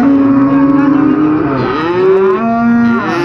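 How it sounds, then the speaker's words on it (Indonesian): Feeder cattle at a livestock market give one long, loud, close moo that swells and bends in pitch over a few seconds, with no talking. "Di deretan sapi bakalannya hari ini hanya ada beberapa ekor saja."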